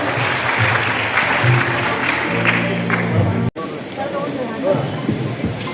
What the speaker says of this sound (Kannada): ದಯವಿಟ್ಟು ಎಲ್ಲರೂ ತಮ್ಮೆಲ್ಲರ ಜೋರಾದ ಚಪ್ಪಾಳೆಯನ್ನು ತರಬೇಕಾಗಿ ತಮ್ಮಲ್ಲಿ ವಿನಂತಿಸಿಕೊಳ್ತೇನೆ